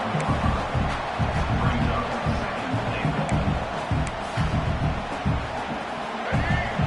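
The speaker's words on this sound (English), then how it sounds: "This crowd is trying to inspire this defense to make a big red zone stop." A stadium crowd at a Stanford vs BYU college football game keeps up a loud, rolling roar during a red zone defensive stand, while a commentator talks over the noise.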